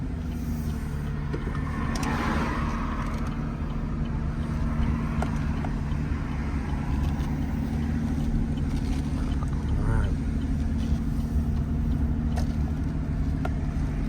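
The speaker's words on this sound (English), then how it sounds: "So right now you can see the generator is kicked up a little bit and the engine's idling higher" A VIA Motors VTRUX sits with its engine idling and its range-extender generator running, giving a steady low drone that holds unbroken for the whole stretch, fairly close and alone with no talk over it.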